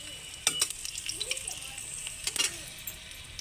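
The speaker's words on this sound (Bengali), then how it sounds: "ফোড়ন দিয়ে দেব, প্রথমে দিয়ে দেব 2টো শুকনো লঙ্কা" Two dry red chillies sizzle in hot oil as a tempering for a bottle-gourd-leaf shukto, with a soft continuous fry and a couple of sharp crackling bursts, heard close but quiet.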